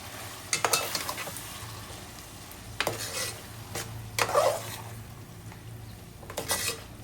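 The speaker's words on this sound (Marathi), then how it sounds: "आपल्याला पुन्हा एकदा छान मस्त मिक्स करून घ्यायचं आहे" Tomato and onion stirred in a frying pan, with several bursts of scraping and clattering from a spoon against the metal over a low sizzle.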